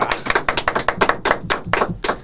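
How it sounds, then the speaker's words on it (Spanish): Audience applause at a podcast interview, a small group clapping in a quick, uneven patter of sharp hand claps, fairly close and steady, with no voices over it. "¡Fuerte el aplauso!"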